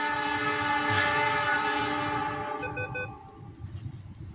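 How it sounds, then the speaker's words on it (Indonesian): A passing train beside a railway track, its loud horn blaring with layered tones that fades out, leaving the rumble and clatter of the cars. "Tuh kan keretanya lewat lagi."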